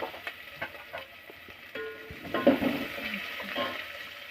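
Carrot pieces, onion and green chili fry in a pan for upma, a quiet sizzle under intermittent stirring clatter, with a louder burst of frying about halfway through.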